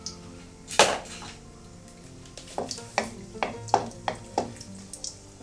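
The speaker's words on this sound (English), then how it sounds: "Now, let's add some cumin seeds, some dried chilies," Cumin seeds, dried chilies and bay leaves hit hot oil with a sharp burst, followed by a run of crackling, popping sizzles and light stirring clinks, close and moderately loud, with no talking.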